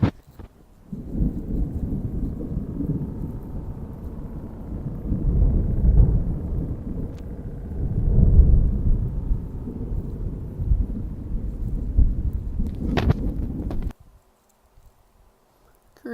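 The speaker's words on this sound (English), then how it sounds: "A storm rolled in, and we saw this." A thunderstorm rolls over a campsite with sustained low rumbling thunder and wind-driven noise. It swells and fades over about thirteen seconds, then cuts to near silence.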